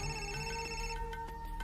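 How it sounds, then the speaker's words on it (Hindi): Phone ringtone sounds for an incoming call in a Hindi-dubbed Telugu film scene, a steady electronic tone pattern playing alone at moderate level without speech. "ये शेखर फोन कर रहा है।"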